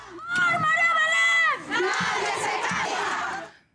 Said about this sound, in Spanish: Un grito de justicia que desde hace días se replica en masivas manifestaciones en todo el país